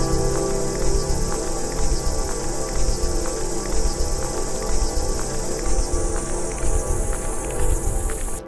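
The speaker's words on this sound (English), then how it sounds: "that jungle sound has got the cicadas doing the really high kind of screech" A dense, high-pitched cicada screech hums constantly over a busy layered jungle background, loud and unbroken from start to finish.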